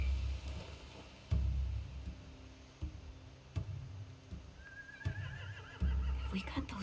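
Horses neigh and whinny in a video game, with a rising whinny rolling over repeated thudding hoof sounds and low rumbling, while a voice talks over the top.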